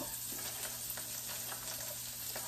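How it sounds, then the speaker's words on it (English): Garlic and onions sizzle steadily in a pan while making birria, a low, even crackle of frying with no talk. "I have the garlic sizzling and over here, sizzling and marinating"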